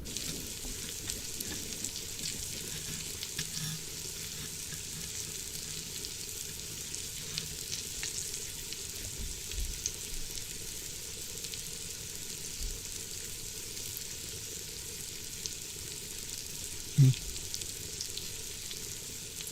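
Food sizzles steadily in a pan as it is stirred, a soft continuous frying hiss with faint scraping and one brief clack near the end, quiet and unbroken by talk.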